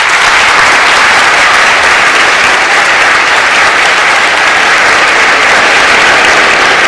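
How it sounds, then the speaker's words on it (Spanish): Audience applauding the vice president at a university honorary doctorate ceremony, a loud, dense and unbroken roar of clapping from a large crowd that fills the whole stretch at constant intensity. "Un fuerte aplauso para el vicepresidente Álvaro García Lineras"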